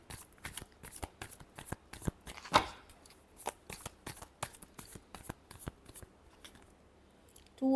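Tarot cards are shuffled by hand, giving a quick run of crisp riffles and slaps at an irregular rhythm, close and fairly quiet, with a brief louder burst midway.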